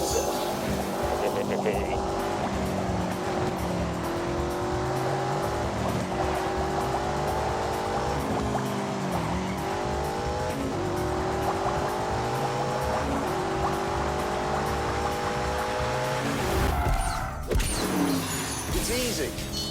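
A BMW driving in The Grand Tour video game, its engine droning steadily with rising and falling pitch throughout, under continuous game sound and someone talking.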